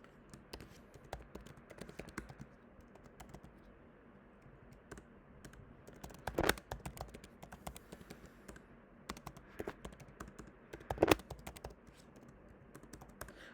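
Code being typed on a computer keyboard: rapid, soft key clicks run in irregular bursts, close but quiet, with a couple of louder clusters of taps and no speech.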